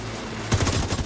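Rapid gunfire from The Division 2 aimed at a heavy enemy's weak spot on the Viewpoint Museum mission, starting abruptly halfway through as a dense burst of loud, closely spaced shots over low game rumble.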